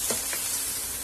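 Finely chopped garlic, four cloves, sizzling in already-hot oil in a pan, a steady broadband hiss with a couple of brief stirring scrapes, close and fairly loud with no voices.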